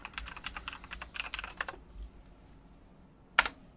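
Fingers type on a computer keyboard: a quick, close burst of rapid keystrokes, then a short pause and one last sharp key press, with no voices.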